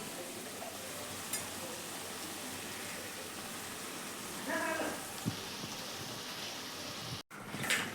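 Ground masala spice mix sizzling as it is added to a pan of cooked sprouted black matki (moth beans), a steady broadband frying hiss throughout with a brief stirring clatter midway and a short dropout near the end.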